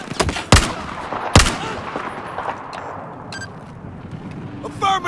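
Enemy gunfire in Battlefield 4 cracks out as two loud close shots early on, then fades into rumbling distant fire and scattered smaller reports beneath a voice.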